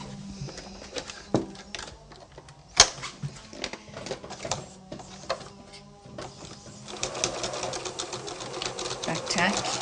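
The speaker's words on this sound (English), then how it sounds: "just bring it over and sew down your side seam" A sewing machine sews a side seam in fabric, with bursts of rapid needle clatter that stop and start and then a longer steady run near the end, alongside handling noises and some talking.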